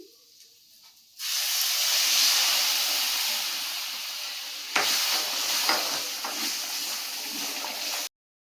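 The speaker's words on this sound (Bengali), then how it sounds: "এবার দইটা দিয়ে দিচ্ছি।" Yogurt goes into a hot pan for a rui fish curry and sets off a sudden loud hissing sizzle. It holds strong for several seconds, then cuts off abruptly.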